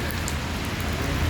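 Steady rain pours down at the DMCC metro station in Dubai, a dense continuous hiss of drops striking surfaces, loud and close with no voices over it.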